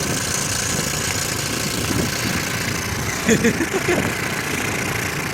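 A Honda Z50 clone motorbike engine runs at a steady rough idle, close and loud, with a brief burst of revving or knocking partway through.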